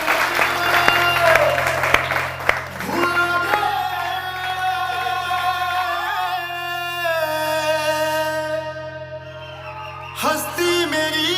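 A studio audience on a TV morning show applauds, a dense patter that mixes with music and singing before fading as the song takes over.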